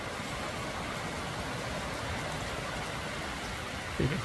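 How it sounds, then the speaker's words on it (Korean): Heavy rain pours down steadily on a forest as a dense, even hiss, with a brief low thump near the end. "빗방울이 굵게 내리는 가운데"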